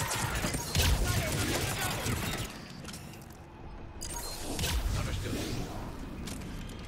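Bursts of gunfire from a weapon in Mass Effect 3 crackle in rapid fusillades, loud and close, with a quieter lull in the middle before another volley, and a voice speaks over the shooting.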